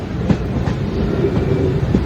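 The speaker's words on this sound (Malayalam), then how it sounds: "കാട്ടിനകത്തൂടെ ആ ട്രെയിൻ അങ്ങനെ വരുന്ന സ്പീഡ് കണ്ട" A train runs fast through forest, its wheels clattering with a steady rumbling roll and periodic clicks over the rails, close and loud, with no talking.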